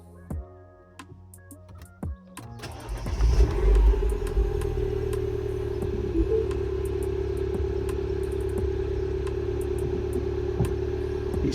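A Mini Cooper S engine, just repaired for a rough idle, cranks briefly and catches, then settles into a steady, loud idle rumble heard up close with no talk.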